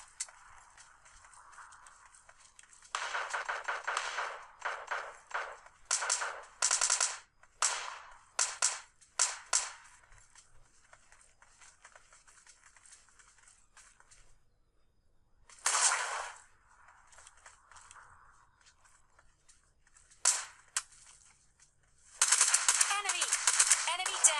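Rapid bursts of gunfire from the mobile game PUBG come in clusters, loud and crackling, with quieter stretches between, a long pause midway, and a dense sustained volley near the end.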